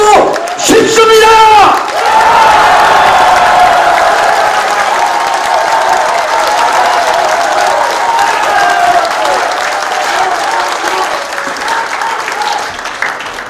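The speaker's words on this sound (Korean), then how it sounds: "박수 소리가 시원찮아서 다시 한번 함께 만들어 가고 싶습니다." A crowd at the opening of a county head candidate's campaign office in Yangpyeong breaks into loud, sustained applause with some cheering, a brief voice at the start, the clapping holding strong before easing slightly.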